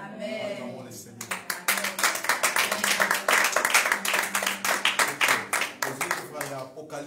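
Worship congregation clapping in a steady, rhythmic beat, loud and close, with voices and singing mixed underneath the handclaps.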